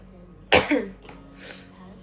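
A person coughs up close indoors during a live stream, caused by a cough and cold rather than a sore throat. It comes as a sharp double burst followed by a softer, breathy cough.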